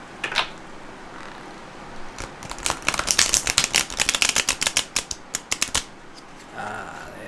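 Rapid crisp riffling of tarot cards being shuffled, a dense burst of sharp flicks and snaps building then stopping, close up, with a softer rustle at the end.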